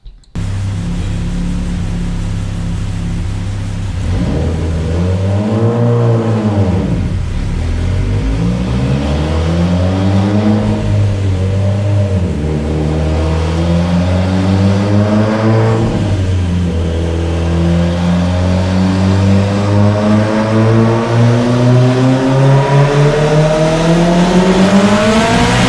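A Mitsubishi Evo X with a 2.2L big-bore sleeved engine, GSC S2 cams and a flex-fuel tune at 38 pounds of boost revs loud and close in repeated sweeps that climb toward 7,500 RPM, dip and rise again.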